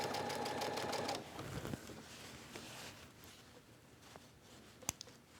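A sewing machine runs a regular straight stitch to attach a casing on a tank dress. A soft, close hum with a fine rhythmic pulse is strongest at first, then thins to faint mechanical ticks and a couple of sharp clicks.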